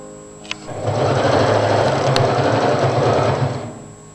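A sewing machine runs steadily for about three seconds, stitching along the curved hem of a front-open Chinese collar jacket tunic. It has a close, continuous mechanical whir with a fast rhythmic pulse, and a brief click comes just before it starts.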